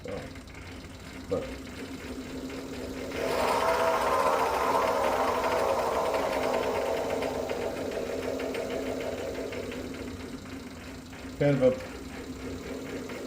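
A new lathe spins at low speed, about 144 RPM, with a steady mechanical hum that swells and loping pulses rising after a few seconds and fading near the end, with someone speaking briefly.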